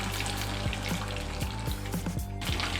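Chicken leg pieces fry in oil with a steady, dense sizzle running the whole time, while low tonal music plays underneath.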